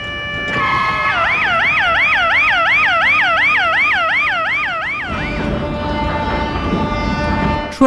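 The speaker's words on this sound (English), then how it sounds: "Ambulance." A loud ambulance siren wails in a fast, repeating up-and-down sweep for about four seconds, then cuts off and leaves a lower steady tone over background noise.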